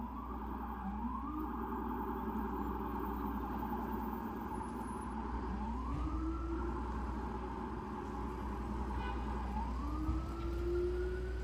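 An emergency vehicle siren in a Dumbo, Brooklyn street near the Manhattan Bridge overpass, repeating rising wails roughly every four seconds over a steady low traffic rumble, moderately loud and somewhat distant.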